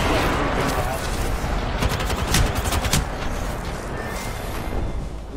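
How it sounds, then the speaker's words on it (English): Enemy gunfire in the battle-royale shooter Apex Legends, during a ranked match, with a dense, loud cluster of rapid shots peaking midway over a busy, continuous game soundscape. "They're fucking sitting there just firing at us."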